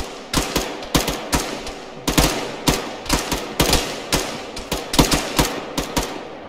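Rapid bursts of gunfire in a shooter video game, sharp loud shots in quick uneven clusters, close and continuous with no talking.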